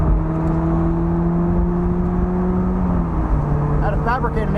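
A car's engine drones steadily and close, its pitch holding level and then shifting as it speeds up merging onto an interstate, with road and wind noise underneath.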